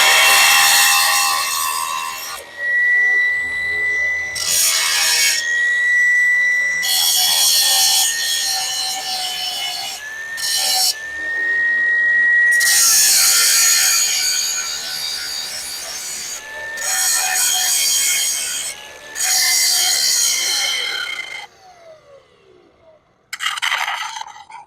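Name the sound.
scraping heavy paint off metal before welding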